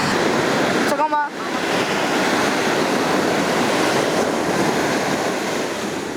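Ocean surf at the East Sea rolls in as a steady, loud wash of waves, with a brief dip near the start where a voice speaks over the water.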